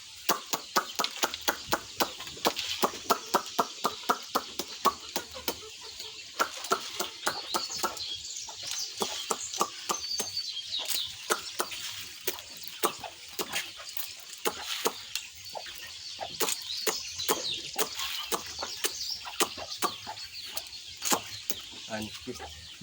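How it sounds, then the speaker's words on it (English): Chickens clucking on a village chick farm in Kisii, a dense run of sharp, close clucks and pecking-like taps repeating steadily, with someone talking throughout. "this is the second chicken that incubate the eggs, and it lays all the eggs"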